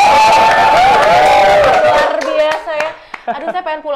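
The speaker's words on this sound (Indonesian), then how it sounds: "Aduh, mana suaranya? Tepuk tangan." A concert crowd at a music festival claps and cheers loudly for a singer performing a cover. The applause is dense at first, then breaks into scattered claps and shouts as it thins out.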